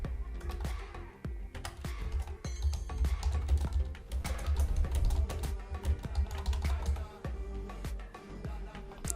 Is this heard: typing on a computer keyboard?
yes